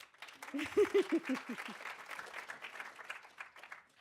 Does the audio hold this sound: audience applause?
yes